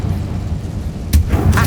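A Bombarda explosion spell in a magic video game: a sudden booming burst after a quiet lead-in, followed by a second rumbling blast.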